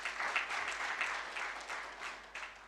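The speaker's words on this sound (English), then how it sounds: "clap for him" Applause from an audience at a customs freight forwarding certificate graduation ceremony, a faint, steady wash of many hands clapping from a distance, sustained evenly without pauses.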